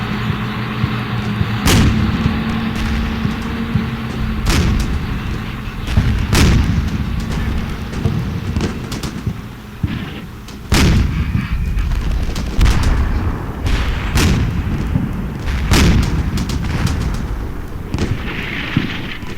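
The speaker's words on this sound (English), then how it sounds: "heat rounds from the Abrams on the trench on the left to suppress the enemy presence there" M1 Abrams tanks fire HEAT rounds at an enemy trench amid a modern combat scene in the game Combat Mission: Shock Force, loud booming cannon blasts repeating every second or two over rumbling battle noise.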